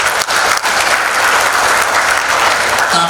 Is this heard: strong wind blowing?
no